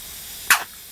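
A single short, breathy sneeze, faint and quick, rises briefly over a quiet background.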